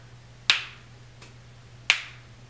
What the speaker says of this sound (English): That was a legit snap.